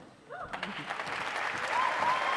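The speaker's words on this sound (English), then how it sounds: "We usually get a round of applause for the invitation." Applause rises from a crowd at an athletics banquet and swells into steady clapping, building slightly louder toward the end with a faint whistle-like tone over it.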